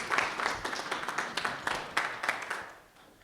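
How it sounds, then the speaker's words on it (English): Applause for legislators at a county board meeting on a fair wage bill, a steady patter of hand clapping from a modest crowd that thins and fades out toward the end. "You deserve a round of applause."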